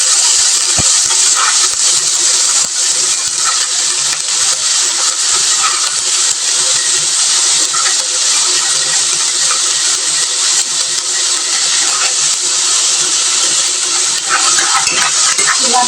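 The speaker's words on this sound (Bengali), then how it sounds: "এখন ছোলা দিয়ে দেবো, দিয়ে সেই ছোলাগুলো সুন্দর করে ভেজে নেব।" Chickpeas frying with spices in a pan, a loud, constant bright sizzle and hiss that fills the whole stretch, with faint scraping and no voices.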